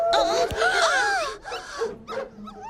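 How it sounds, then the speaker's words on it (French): A pack of cartoon dogs howls and yelps, several wavering voices overlapping in close, loud bursts with short gaps between them. "On dirait plutôt une meute de chiens."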